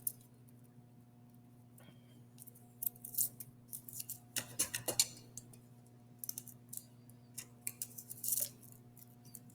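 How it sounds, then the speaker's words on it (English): Scissors snip away paper wrapping from an electrical cable, a series of quiet, close crisp cuts and clicks in irregular clusters over a steady low electrical hum. "We got that paper, not needed, cut that out of there."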